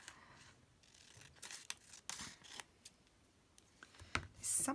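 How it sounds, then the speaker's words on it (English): Scissors trim a piece of paper in a quiet room, giving a series of short, crisp snips and rustles at irregular intervals, close by and fairly soft. "I've got to be careful trimming this piece off."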